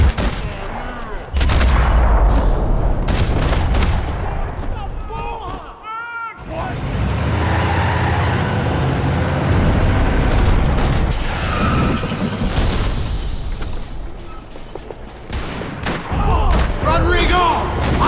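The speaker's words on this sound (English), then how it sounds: "Another parking lot rattling with gunfire." Gunfire and clattering mechanical action echo through a parking lot in the video game Max Payne 3, bursts of shots coming in uneven clusters, loud and close, with a voice speaking over parts of it.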